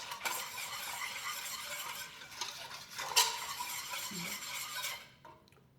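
Coconut jello mixture being stirred in a bowl for a Lao-style recipe, a steady run of soft scraping and clinking utensil sounds with a sharper knock near the middle, close and moderately loud, no talking.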